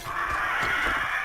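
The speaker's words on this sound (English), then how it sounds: "Birds." Crows cawing in the survival video game 7 Days to Die, a brief harsh caw that is loud and close, heard alone over a dense, hissing ambient background.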